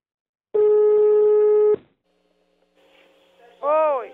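An outgoing phone call: a steady electronic ringback tone sounds once, followed by faint line noise and a rising warbling tone as the call connects.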